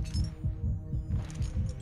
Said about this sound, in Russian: У кого сердце бьется?